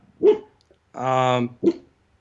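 A dog barks in a few short bursts: a sharp bark, a longer drawn-out howling yelp, then another bark, close and loud, with no talk over it.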